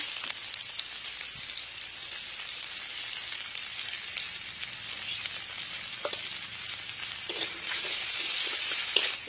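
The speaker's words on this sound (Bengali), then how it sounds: "এটাকে একটু নেড়ে চেড়ে দিয়ে দিব পেঁয়াজ কুচি।" Chopped onion frying in a pan with bay leaves and five-spice, a soft continuous sizzle with a few light stirring taps, growing a little louder near the end, no talking.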